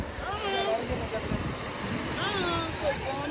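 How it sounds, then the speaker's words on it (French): Strong wind buffets loudly and steadily at a seaside spot in Mayotte, a rough continuous roar with people talking over it. "Oh, il y a trop de vent."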